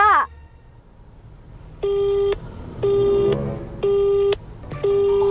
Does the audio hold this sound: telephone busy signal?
yes